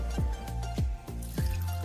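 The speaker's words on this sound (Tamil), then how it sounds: "அடுப்பை ஆஃப் பண்ணிவிட்டு வடிகட்டி எடுத்துக்கலாம்" Boiled bitter gourd soup liquid is strained after cooking, giving a few distinct, resonant drips and plops at uneven intervals over a continuous watery background.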